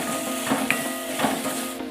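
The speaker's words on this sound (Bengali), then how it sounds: "টমেটো কুচিটা দেওয়ার পর একটু নাড়াচাড়া করব।" Chopped tomatoes stirred into sizzling spices and oil for a fish curry, a loud steady sizzle with a few soft stirring strokes close by.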